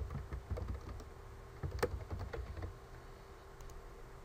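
Faint, irregular keystrokes on a computer keyboard tick through a quiet room, clustered in short bursts and then trailing off, with no talking.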